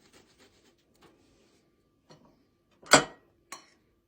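Faint rasping scrapes of garlic being grated into salt, a few quiet strokes followed by two louder crunchy rubs close by.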